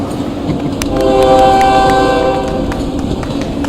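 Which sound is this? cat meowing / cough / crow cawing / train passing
train passing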